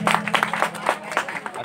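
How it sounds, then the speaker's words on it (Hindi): Applause from an audience at a Republic Day school prize ceremony for a student, a short spell of uneven, moderately loud clapping over a steady hum, with crowd noise mixed in. "और इनके लिए एक जोरदार ताली बजाएं"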